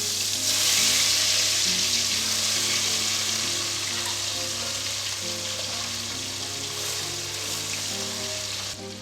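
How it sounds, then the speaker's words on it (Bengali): Small fish frying in mustard oil in a wok, a loud, steady, dense sizzle that holds throughout with no talk. "কড়াইতে সর্ষের তেল দিলাম। প্রথমে আমি মাছগুলো ভেজে তুলে নেব।"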